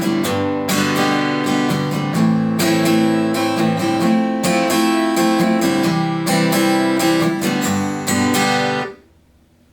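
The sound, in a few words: acoustic guitar strumming chord progression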